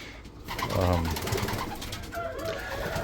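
Racing pigeons coo softly in a new loft aviary, with throaty, rolling calls close by and faint background murmuring.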